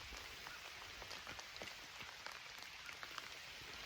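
Steady rain patters in November woods, an even, close hiss of drops striking leaves and ground, with no talking.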